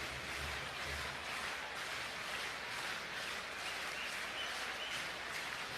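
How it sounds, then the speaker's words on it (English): A crowd at Wrigley Field murmurs and buzzes through a Padres–Cubs baseball game as a faint, steady wash of distant noise that never swells into distinct cheers. "Crowd making noise here at Wrigley Field."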